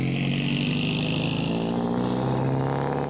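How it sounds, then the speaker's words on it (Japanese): A Cosworth engine in a Toyota 86 drift car, not yet fully tuned, runs loud and close, holding a strong steady rev before cutting off abruptly at the end. "セッティングはまだ取れていないものの、快調な音を響かせるコスワースエンジン"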